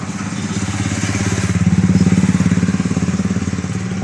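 A motorcycle engine runs close by at a steady, throbbing idle with a fast regular pulse, loud and unbroken for a few seconds on a street crowded with vehicles.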